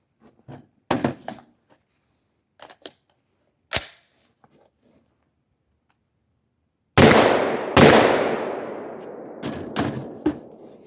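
Rifle shots from a 5.56 rifle fitted with a Deer Creek Stealth Blast suppressor: several sharp, loud cracks spaced irregularly, then two heavier booms with long ringing decay outdoors, no talking.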